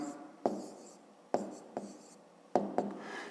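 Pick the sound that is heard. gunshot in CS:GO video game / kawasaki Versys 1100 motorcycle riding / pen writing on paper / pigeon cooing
pen writing on paper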